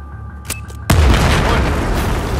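A single huge explosion booms out in a Battlefield 4 combat scene after a quiet lead-in with faint clicks, then a loud, sustained rumbling roar of debris and blast echo.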